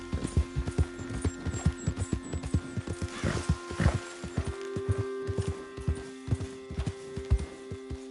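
Horse hooves clatter at a steady gallop in Red Dead Redemption 2, a dense run of close, regular clip-clop beats over a low ambient hum.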